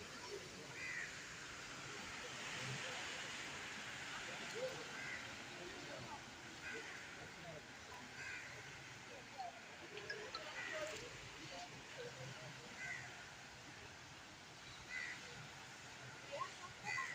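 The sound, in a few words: loud rushing floodwater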